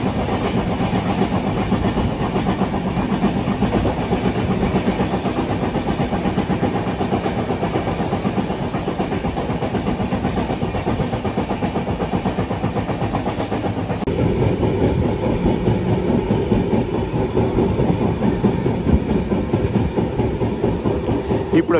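The Flying Ranee Express runs from Surat towards Mumbai, a steady loud rumble of wheels with rhythmic clickety-clack over the rails, the noise swelling slightly partway through.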